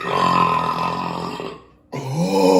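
A man lets out a long, deep, rumbling burp after drinking beer, loud and close, then a short pause and a second rising burp.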